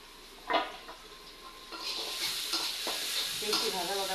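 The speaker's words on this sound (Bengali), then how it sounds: "পেঁয়াজগুলো ভাজা হয়ে গেছে" Onions frying in a pan while a spoon stirs and scrapes them, close-up sizzling punctuated by repeated clattering strokes against the metal.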